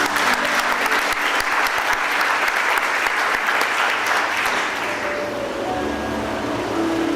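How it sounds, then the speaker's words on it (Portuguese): A church congregation breaks into loud, sustained applause, a dense steady wash of clapping from many hands that carries on for several seconds before easing slightly toward the end. "Vamos aplaudir o Senhor"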